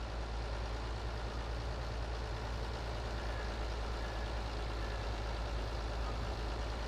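Tractor engine with a baler attached in the Farming Simulator 22 game, a steady, loud, low diesel drone that runs continuously without change.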